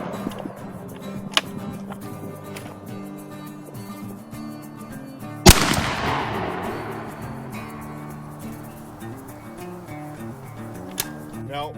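A 12 gauge 3 1/2 inch shotgun fires a heavy TSS turkey load once, a single sharp, loud outdoor blast that decays into a long rumbling tail, over a steady low tonal hum.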